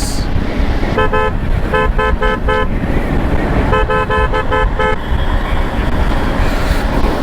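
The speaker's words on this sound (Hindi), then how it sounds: "इसलिए हॉर्न बजा रहा हूँ मैं" A car horn honks in short repeated bursts on a mountain road, two quick clusters of beeps, over the steady rumble of a moving vehicle.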